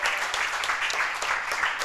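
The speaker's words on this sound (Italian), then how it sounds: "l'applauso più grande per i ragazzi dell'Aran" A studio audience at a live evening TV broadcast claps loudly and continuously. The dense, even applause lasts the whole moment, with no pauses.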